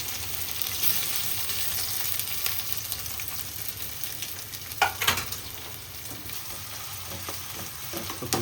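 Onions and capsicum fry in hot oil in a home kitchen pan, a steady close sizzle with occasional stirring scrapes and clatters, no talking.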